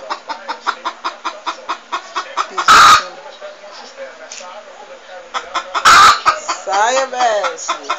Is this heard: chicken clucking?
yes